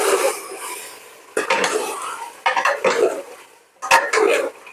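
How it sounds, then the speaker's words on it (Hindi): Meat stirred and fried in a pan for achar gosht with red chilli, a spoon scraping and clattering against metal in bursts, with a continuous sizzle underneath and no talking. "इसको अच्छी तरह भूने।"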